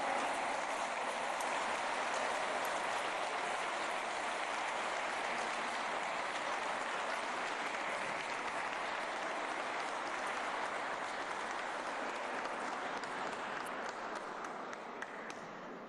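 A large audience applauds award-winning teachers at a Mexican government event, a long, steady, rain-like roar of clapping that carries on for about sixteen seconds with little change.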